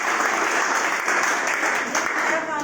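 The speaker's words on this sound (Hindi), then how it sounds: "एक बार मैडम के लिए तालियां" Audience applause at a network marketing business meeting in Jaipur, dense steady clapping filling the whole stretch, loud and close with a faint murmur of voices underneath.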